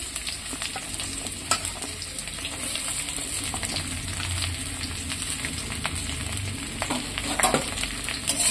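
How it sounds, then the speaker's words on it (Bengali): Sliced pointed gourd fried in a pan with ginger and garlic, a steady, loud, continuous sizzle with occasional stirring scrapes throughout, no voices. "পটলটা আমি একটু ভেজে নিচ্ছি।"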